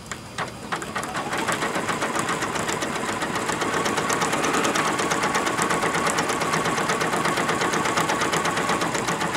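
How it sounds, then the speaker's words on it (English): An embroidery machine blanket-stitches around a quilt appliqué, its needle hammering in a fast, steady mechanical rhythm that runs loud and continuous throughout with no talk. "now we're going to go ahead and start the machine, and it is going to begin to blanket stitch around my applique to secure it down"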